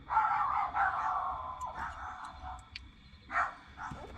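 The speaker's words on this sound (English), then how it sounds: "Set my dogs off, I know that." Dogs barking somewhere in the distance, a few muffled bursts spread over several seconds against a low background hum.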